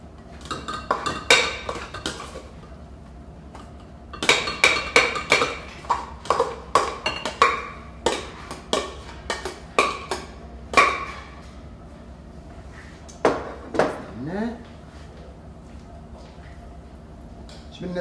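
Metal and ceramic clatter from serving fish khathra, a fish and Quaker oats dish, into a serving pot: irregular bursts of ringing clinks and knocks, some sharp and close, with pauses between clusters.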